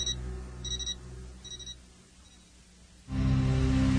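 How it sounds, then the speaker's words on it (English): A spacesuit's built-in warning alarm from a Star Trek audiobook sounds as three short bursts of bright electronic beeping, followed by a quiet pause and then a loud, low droning hum. "the suit's built-in alarm filled his head"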